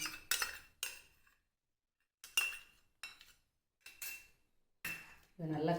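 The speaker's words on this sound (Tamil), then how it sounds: "இதை நல்லா கலந்து விட்டுடலாம்." A spoon clinks and scrapes against a bowl while chicken kebab ingredients are mixed with ghee, coming in several separate bursts of close metallic clatter with short quiet gaps between them and no talking.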